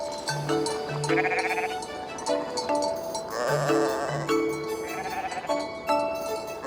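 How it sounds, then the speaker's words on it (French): A flock of sheep bleats in the mountains of northern Lebanon, herded by Bedouins; repeated overlapping bleats from several animals, some close and loud, others farther off, with no talking. "les Bédouins conduisent leurs troupeaux de moutons dans la montagne"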